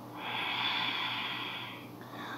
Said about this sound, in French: Et prenez quelques respirations.